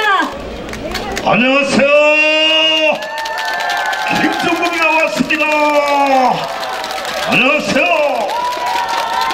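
A large crowd at a presidential campaign rally in Yeoju, South Korea, cheers and applauds loudly and continuously while a man greets them over an amplified microphone.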